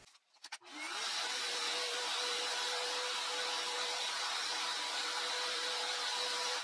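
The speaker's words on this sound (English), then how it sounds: "let's go ahead and take the guard off and shave up the inside of her pads" A Gerefet pet grooming vacuum clipper with its guard removed runs steadily and loudly after a brief start-up click, a continuous motor whine with airflow hiss while shaving the pads of a dog's paws.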